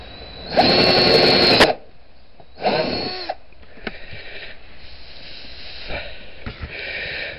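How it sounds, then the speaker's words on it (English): Two short bursts of a power drill whirring close by as it drills into metal on a Honda Metropolitan scooter, each lasting about a second, followed by quieter clicks and handling noises. "I'll continue drilling."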